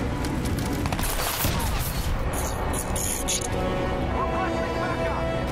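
Dense gunfire and explosions from a shooter video game fill the whole stretch, a loud continuous barrage of shots and blasts with players talking over it.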